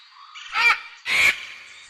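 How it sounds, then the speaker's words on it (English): Two harsh, hoarse squawks from a condor come in quick succession, each loud and brief, separated by a short pause. "Condor."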